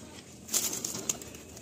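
A male Malbai pigeon, brownish-bodied, takes off with a short flurry of flapping wings, quiet and close, with a couple of sharper wingbeats.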